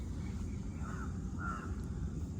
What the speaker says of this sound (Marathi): पक्ष्यांचा आवाज येत असेल